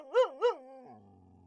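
A dog gives two quick, close, mid-pitched barks in a row, then a soft trailing whine, in an otherwise quiet space.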